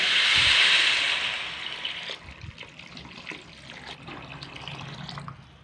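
Water pours into a pot of daliya khichuri cooking with dal, a bright splashing stream loud at first that fades into softer trickling and bubbling.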